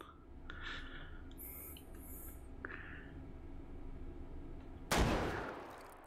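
A single sharp, loud gunshot in the VR game Hot Dogs, Horseshoes & Hand Grenades cracks out near the end after quieter clicks and handling noises, then fades with a short tail.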